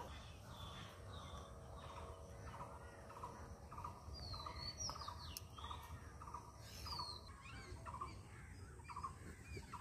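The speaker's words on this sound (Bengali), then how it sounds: "ওদিকে কিছু কাক এসছে, এসে ভাত খেতে লেগে গেছে" Crows gather outdoors where cooked rice has been scattered, giving repeated harsh caws over a steady wash of background noise, with a few higher chirps from other birds.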